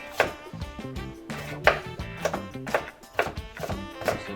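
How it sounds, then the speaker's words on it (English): A knife chops broccoli into bite-sized pieces on a cutting board for cream of broccoli soup, giving a steady run of sharp, close thuds at an uneven rhythm over soft background music. "I'm just cutting them down now."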